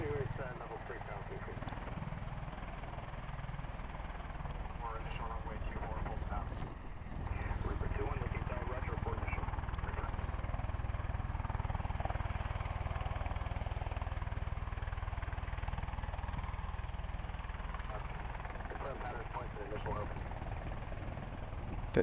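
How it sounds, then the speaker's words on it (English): A V-22 Osprey tiltrotor aircraft gets ready to take off at RAF Mildenhall, its rotors and engines making a steady, distant low roar and thrum that grows slightly after a few seconds, with people talking over it. "another Osprey getting ready to take off"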